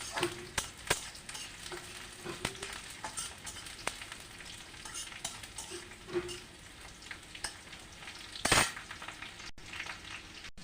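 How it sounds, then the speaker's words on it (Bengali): Onions frying in a pan for a home-style country chicken curry, a quiet continuous sizzle broken by repeated scrapes and clicks of a spatula stirring against the pan, with one sharper, louder scrape near the end. "পেঁয়াজটা ভাজা হয়ে গেল"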